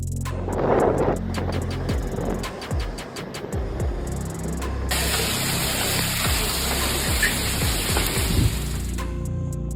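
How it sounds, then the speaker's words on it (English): Dense roaring hurricane wind and rain as a storm makes landfall, loud and steady, with a sharp burst of heavier hiss midway and scattered crackles throughout. "You're witnessing part of Hurricane Brian's raw power as it slams into land, destroying everything"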